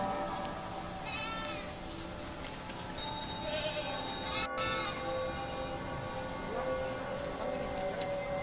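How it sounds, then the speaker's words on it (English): A goat bleats several times at moderate distance over a steady outdoor background hiss, with short wavering cries spread across the stretch. "a strange creature seeming to feed off of a goat"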